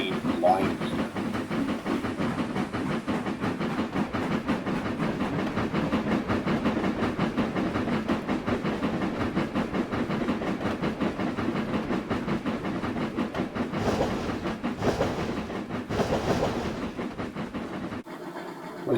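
Steady rumble of a video game train crossing a trestle, a continuous low rail-and-engine drone with a hissy wash on top, constant and fairly close.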